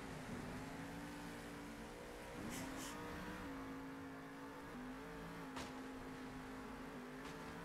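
The engine of a monster truck in the video game Monster Jam Steel Titans 2 drones steadily at a moderate distance, its pitch shifting slightly as the truck revs and eases off, with a few brief clicks over the hum.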